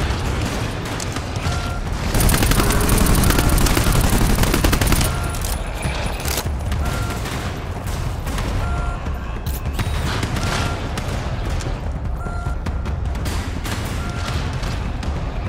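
Dense, sustained gunfire from GTFO, a cooperative shooter, with rapid automatic bursts and booms running almost continuously at close range, peaking loudest early on.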